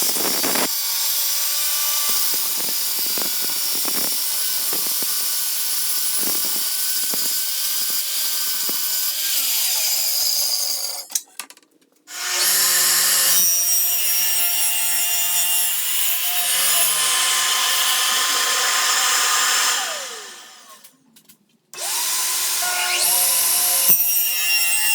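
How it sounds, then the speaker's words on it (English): Power saw cutting plywood in a benchtop shop setup: a loud, steady rasping whine runs for about ten seconds, stops briefly, then cuts again for a similar stretch, with a short burst at the very end. "now let's saw some plywood"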